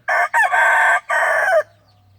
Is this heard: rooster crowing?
yes